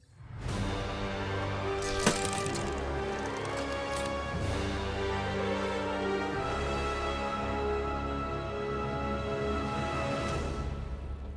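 Overwatch test-server menu music serving as Doomfist's theme in the video game, a dense orchestral track with booming percussion hits and a sharp crack early on, steady and full throughout, with no voices over it.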